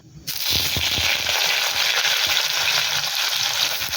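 Raw banana goes into hot mustard oil with black cumin and bursts into a loud, close, crackling sizzle after a brief quiet start, with occasional stirring clinks and no talk.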